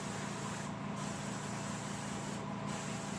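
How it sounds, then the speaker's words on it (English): Base coat sealer hisses from a spray can onto a taxidermy base for a bobcat mount, a steady close hiss broken by two short pauses. "spray with base coat sealer."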